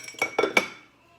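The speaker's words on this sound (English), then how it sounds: "Stir it up." A utensil knocks against a pot while chicken and rice are stirred, three quick metallic clinks close up, with a faint ring fading after the last one.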